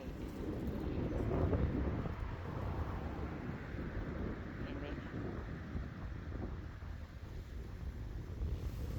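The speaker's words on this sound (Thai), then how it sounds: "ลมแรง" Strong wind buffeting the microphone outdoors in Finland after the snowmelt, a loud continuous low rumble with gusts swelling and easing, and no clear talk heard.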